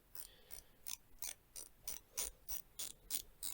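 Dive watch bezel turned through about ten crisp ratchet clicks in a steady rhythm, faint and close with quiet gaps between each click.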